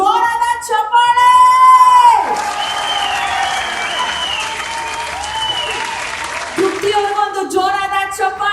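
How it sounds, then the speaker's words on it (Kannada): Loud audience applause fills a talent award ceremony hall, a dense burst of clapping lasting several seconds between stretches of a host's talk. "ಸದ್ದ ಸಾಧಪ್ಪ, ಜೋರಾದ ಚಪ್ಪಾಳೆ"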